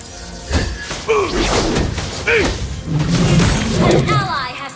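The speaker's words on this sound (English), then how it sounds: "You destroyed a turret!" A turret crumbling in Mobile Legends: a heavy thud and crash with debris, layered among game announcer voices and effect chimes.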